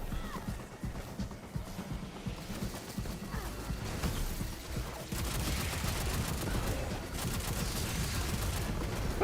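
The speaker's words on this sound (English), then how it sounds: "Why is he shooting me?" Enemy gunfire in Destiny 2 crackles in rapid, continuous bursts, layered over a busy combat backdrop that grows denser toward the end.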